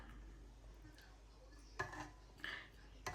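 A spoon scrapes and knocks against a pot of Ghanaian Zongo stew made with onion, ginger, garlic and stock. Three short metallic clinks and scrapes stand out over a faint, quiet background.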